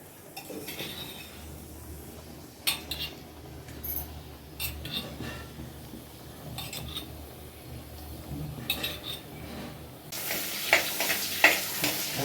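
Onions and green chillies fry in a pan for fish curry, a faint soft sizzle with occasional clinks of a utensil against the pot, nearby and alone.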